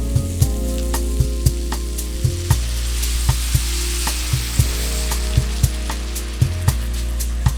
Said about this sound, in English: You can tell that the vegetables are not sweating anymore, they're now frying